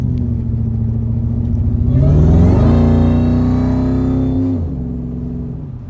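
Engine of a 2003 Ford F150 SVT Lightning pickup idling on a cold day, then revved up in one smooth rise to a sustained higher pitch before dropping back to a steady idle, close and loud with no talk.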